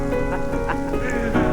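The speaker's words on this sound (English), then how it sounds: "it's raining." Rain falling in the New Forest during a long run, a steady dense patter of drops on surfaces close by, continuous and fairly loud for the whole moment.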